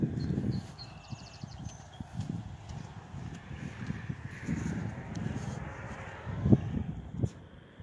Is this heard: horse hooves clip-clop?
yes